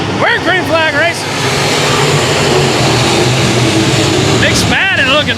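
Race cars at 281 Speedway under green flag racing roar steadily past at close range, a loud continuous engine drone with a commentator's voice heard over it at the start and end.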